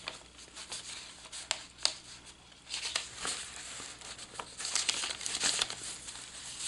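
Notepad paper from a pocket of a Nature's Diary journal kit crinkling and rustling close by in uneven bursts, louder toward the end, with no talking.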